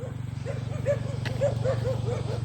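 Dogs bark in a steady run of short, evenly spaced yelps over a constant low engine-like hum, fairly close.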